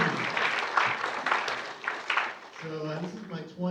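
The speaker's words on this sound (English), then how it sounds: "Let's give yourselves a round of applause." Audience applause at a writers' festival session rises and fades out, crowd clapping mixed with cheers and voices. A voice then starts speaking over the last scattered claps.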